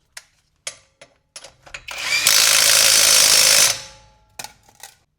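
A generic cordless impact wrench on mode 2, set to about 100 foot-pounds, hammers at a stuck bolt: a few short taps, then a loud, sustained rattling burst of roughly two seconds, followed by more brief clicks.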